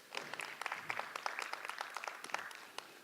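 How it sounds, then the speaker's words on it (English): A small audience claps at an evening community talk event, a steady patter of hands lasting a few seconds, fairly soft and moderately close, with no voices over it. "Let's give him a round of applause"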